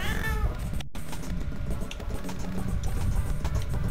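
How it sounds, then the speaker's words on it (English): A cartoon cat meows from a Nintendo DS Garfield video game, one clear synthesized meow near the start over a busy background of game music and effects. "Did we hear Garfield do a cat sound?"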